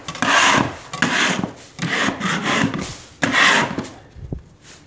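Wallpaper being scraped off a wall with plastic sheeting on the floor: loud, close rasping strokes in a rough rhythm of about five passes, each separated by brief pauses.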